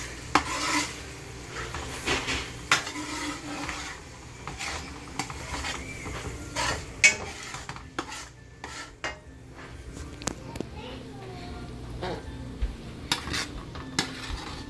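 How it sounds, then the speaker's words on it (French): Tomato and condiments with ginger slices frying in a pot for couscous and okra, a soft steady sizzle broken by frequent clinks and scrapes of a spoon stirring against the pot, close and without talk. "Je le fais frire notre tomate et condiments."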